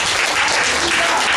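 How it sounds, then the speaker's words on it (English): Church congregation applauding with a steady, dense wash of hand clapping throughout, loud and close, with no talk over it. "Give yourselves a hand clap of praise."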